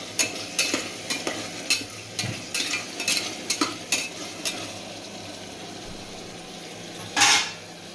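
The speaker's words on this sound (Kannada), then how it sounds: "ಈಗ ಮಸಾಲ ಎಲ್ಲ ನೀಟಾಗಿ ಮಸಾಲ ಸ್ಮೆಲ್ಲೆಲ್ಲ ಹೋಗೋವರೆಗೂ ಡೀಪ್ ಫ್ರೈ ಮಾಡ್ಕೊಳ್ಳೋಣ" Masala with tomatoes fries in a pan, a soft sizzle under repeated sharp scrapes and clinks of a spoon stirring against the metal, irregular and close, with one louder clatter near the end and no speech.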